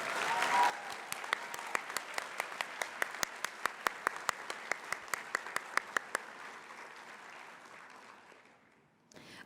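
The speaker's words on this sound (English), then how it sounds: "Please give a round of applause to these amazing individuals." An audience claps at a college nursing pinning ceremony, steady applause from a crowd with sharp individual claps standing out, sustained for several seconds before tapering off into quiet near the end.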